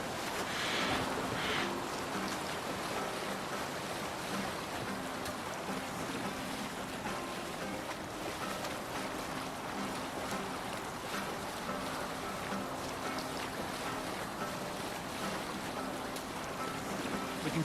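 A Viking longship sails over the sea in the video game Assassin's Creed Valhalla, with a continuous wash of waves and wind rushing steadily throughout and no clear talking.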